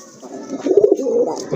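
Red pigeons coo nearby, a pair of soft throaty coos rising in the middle, with a bright chirp near the end.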